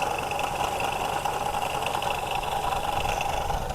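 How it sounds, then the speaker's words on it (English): A 1973 Pontiac LeMans engine idles steadily with a loose water pump pulley, giving a continuous close mechanical hum with a faint whining, rattling edge that stays even from start to finish. "the noise is from the front pulley of the water pump that is loose"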